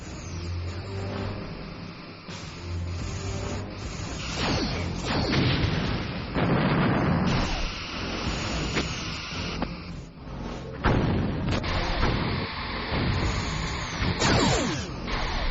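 Weapon fire and explosions from the starship combat game Star Trek Bridge Commander, a dense run of booms, bursts and crackling blasts over a continuous electronic background, loud throughout with irregular peaks.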